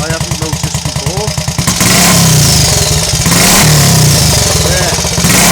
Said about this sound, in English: it's got a nice burble on the overrun